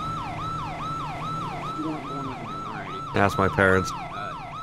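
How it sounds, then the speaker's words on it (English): A video-game police siren wails in a steady, repeating up-and-down cycle, loud and continuous, while a voice speaks briefly near the end. "So why is that siren still going?"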